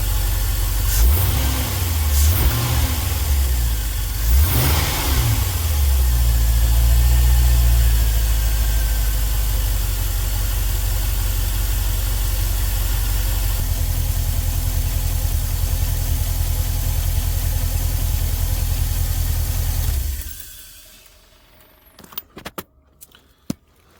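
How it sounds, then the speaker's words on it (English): An LS-swapped GMC Vandura van engine idles smoothly after injector cleaning, a steady low rumble with a few early surges, running loud for about twenty seconds before stopping, followed by faint clicks. "Started way better and much smoother."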